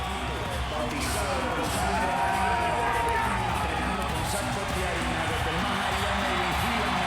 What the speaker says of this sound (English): let the crowd welcome him into the arena